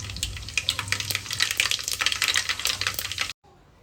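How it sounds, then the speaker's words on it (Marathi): Cumin and mustard seeds crackle and spit in hot oil in a pot, a dense, close sizzling with rapid popping for about three seconds before it cuts off abruptly to near silence. "पातेल्यामध्ये तेल गरम करून घेतलेलं आहे. त्याच्यामध्ये जिरे आणि मोहरी टाकून घेतली."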